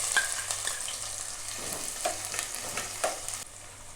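Onion hits hot oil for a crab curry, giving a steady frying sizzle broken by a few sharp crackles and stirring scrapes, with no talking.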